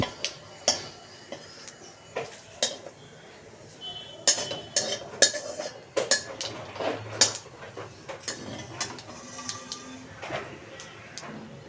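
Dried red chillies, a bay leaf and whole cumin seeds frying in a pan for moong dal, with a steady run of sharp metallic spatula clinks and scrapes over a low background hiss.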